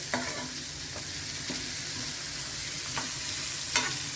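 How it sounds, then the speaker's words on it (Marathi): Food frying in oil over a low flame, a steady soft sizzle with a few sharp clicks of stirring scattered through, close by with no talking. "मंद्या आचेवर केला तरी चालेल ती फ्राय करून घ्यायची आहे"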